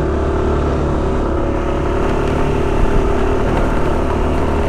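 A vehicle engine climbs an uphill village road on a mountainside, revving hard with a loud, continuous roar and a slight surge near the end.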